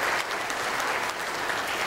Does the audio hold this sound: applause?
yes